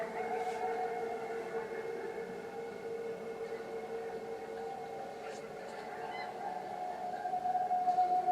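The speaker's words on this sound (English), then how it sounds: "That sounds like coyotes." Coyotes in the woods howl in a sustained, wavering chorus that carries from a distance and holds steadily throughout, rising slightly toward the end.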